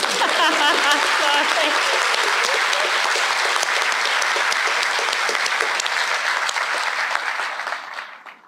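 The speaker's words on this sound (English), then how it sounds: "We'll give Gage an extra hand of applause." A large crowd applauds steadily and loudly at a medical school white coat ceremony, a dense wash of clapping that holds for several seconds before fading out at the end.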